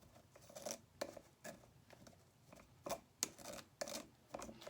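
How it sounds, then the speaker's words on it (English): Sugar shaken through a metal strainer and pushed with a spoon, heard as soft scraping and gritty rubbing with irregular light taps, quiet and close, with no talk. "So now I just kind of start shaking it a little bit, and also using the spoon to push the sugar through."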